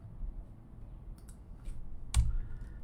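Keystrokes on a computer keyboard while code is typed in Roblox Studio: a few scattered, faint clicks, then one sharper tap near the end, over low room hiss.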